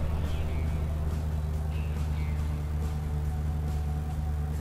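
An Audi RS3 engine idles in the Euro Truck Simulator 2 game, a steady low rumble with no change in pitch.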